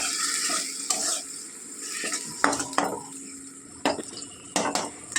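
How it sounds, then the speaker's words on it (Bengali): A paste of onion, green chili, ginger and garlic fries in hot oil for chicken dum aloo, with a steady sizzle and repeated scraping clinks of a spatula stirring against the pan, close and busy. "এবার ভালো করে তেলে আগে ভেজে নেব।"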